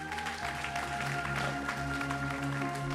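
A church congregation claps steadily through the whole stretch, a dense, even round of applause with what sounds like organ or keyboard tones sustained underneath.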